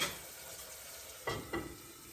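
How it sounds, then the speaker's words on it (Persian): Stir-fry cooks in a pan at home, a soft continuous sizzle broken by two short stirring scrapes near the end, quiet and with no talking. "دارم آشپزی میکنم، استنباری درست میکنم"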